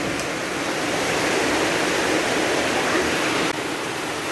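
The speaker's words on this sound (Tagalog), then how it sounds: "Grabe yung ulan, friendship," Heavy rain pounds a roof during a sudden afternoon downpour strong enough to cause flooding, a dense, steady roar of loud broadband hiss with no voices and only a slight dip near the end.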